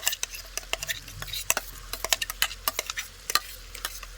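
Onion and spice paste tipped into hot oil in a pan and stirred, giving a steady series of sharp spoon scrapes and clacks against the pan over a soft sizzle, close up with no voices.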